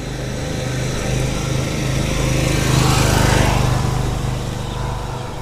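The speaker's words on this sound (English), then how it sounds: "it's just some dude on a mower" A mower runs steadily close by, its engine a continuous loud drone that swells slightly toward the middle and stays steady throughout, with nobody speaking.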